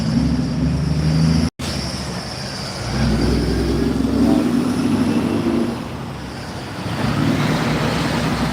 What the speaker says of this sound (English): there's a lot of traffic right now. It's kind of loud.